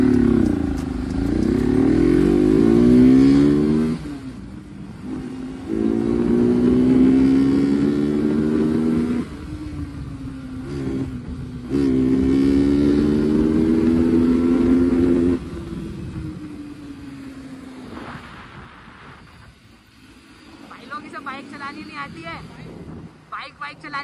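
A motorcycle being ridden, with a steady engine drone rising and falling in several long stretches, loud and close, broken by short pauses and wind buffeting, with people talking over it.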